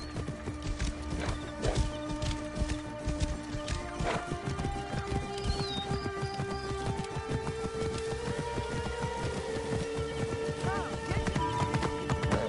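Pegasus, a horse in Assassin's Creed Origins, clip-clops steadily at close range with a whinny, while voices talk over the hoofbeats and game music plays underneath.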